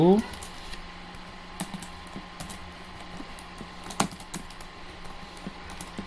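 Computer keyboard keys clatter in quick, irregular bursts while a programmer works on code, with someone speaking over most of the typing at moderate level.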